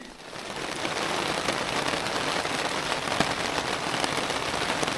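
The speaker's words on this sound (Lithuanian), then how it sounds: "Tai pralauksim lietų." Steady rain patters densely on a tent at a camp in Estonia, an even, unbroken hiss of drops with no voices.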